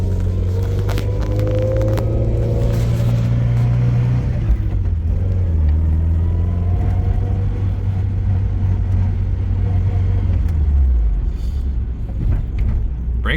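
A Toyota AE71 Corolla converted to AE86 GTS spec accelerates hard and loud up close, the engine note climbing through the gears with shifts and ending as the revs fall off and the car slows.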